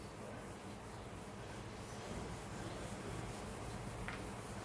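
Writing being rubbed off a classroom board, a steady continuous scraping and rubbing that runs throughout at a near, even level.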